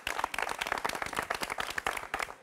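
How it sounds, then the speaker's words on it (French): An audience applauding at the closing of a trade show, many hands clapping in a dense, lively patter that continues steadily throughout. "on va les applaudir encore une fois bien, bien fort."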